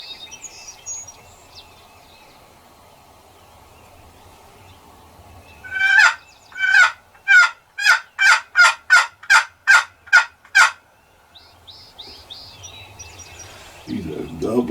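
A wild turkey gobbles in a quick series of about ten loud, rhythmic bursts in open woods, with quieter sounds before and after.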